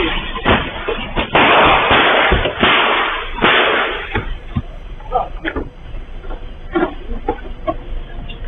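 Sharp gunshot cracks ring out several times in quick succession, loud and close, with shouting and commotion between them.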